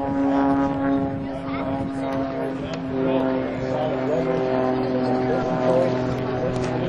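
A stunt plane's propeller engine drones overhead at SpaceShipOne's first flight event, a steady, loud hum running through the whole stretch while people talk nearby.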